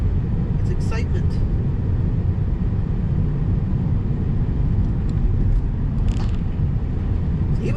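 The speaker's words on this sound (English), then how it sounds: "Oh my gosh, a car's coming." Broadband road roar from a Tesla Model 3 rolling along a curving country road, with a passing car's rush blending into the steady cabin noise. Voices chatter briefly over it.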